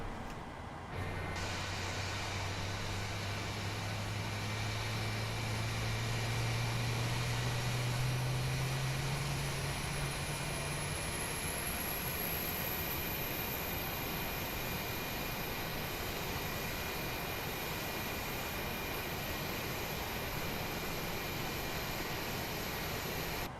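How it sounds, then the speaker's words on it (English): An auxiliary power unit starting up on a PMDG 737 in Microsoft Flight Simulator, a steady loud broadband roar with a low whine that rises and fades early on and a high tone climbing near the top, constant throughout. "Looks like APU is firing up."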